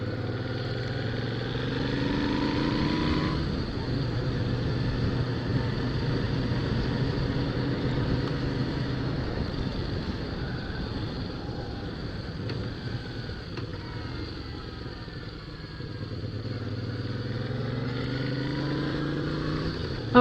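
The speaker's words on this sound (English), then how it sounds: "it's got a nice burble from the pipes" A motorcycle engine burbles steadily through its exhaust pipes, a continuous low throbbing rumble that holds close and fairly loud with slight swells in pace.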